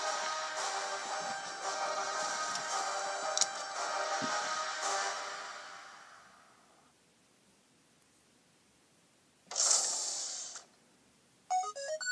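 A phone ringtone plays steadily for several seconds, fades into quiet, then returns in two short bursts.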